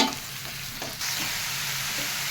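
Milk mushrooms, white outside and black inside, cooking in a pan for mushroom gravy curry: a continuous close sizzle of frying with a soft stirring scrape partway through, no talking.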